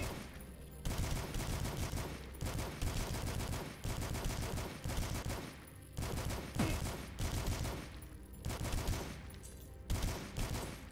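Assault rifle fire in the retro shooter Dusk rattles in rapid sustained bursts with brief pauses between volleys, loud and dense against game sounds, with no talking.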